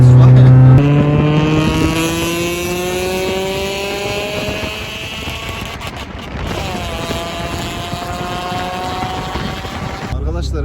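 Honda Civic with a 1.6 SOHC VTEC engine revs hard, its pitch climbing steeply then holding high and loud in a sustained near wail, with a second rise toward the end.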